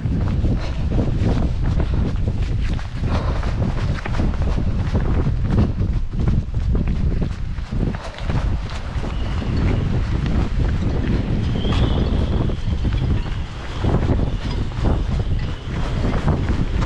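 Strong wind buffeting a microphone during a relay ultra-trail run, a loud continuous roaring rumble with gusty surges throughout, no talk.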